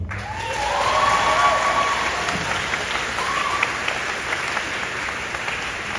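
A school opening assembly at Glendale Prep applauds to welcome a student speaker, with steady, full-room clapping that swells and then holds.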